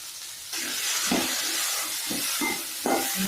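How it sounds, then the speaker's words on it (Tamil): Mushrooms and cauliflower sautéing in a pan with a little mustard seed and fennel for soup, a steady bright sizzle broken by several soft scraping stirs of a spoon against the pan. "காளானையும் காலிஃப்ளவரையும் வணக்கணும்"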